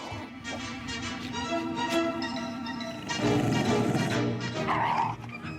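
A small dog in the White House barks and yips in short bursts while playing hard with a ball, the sounds near and lively with some whimpering, mixed with indoor room noise.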